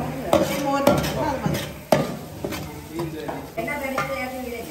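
Small onions frying in a cooking pan for a chicken curry at a school camp, a ladle clanking and scraping against the metal in uneven strokes over a light sizzle, with people talking nearby.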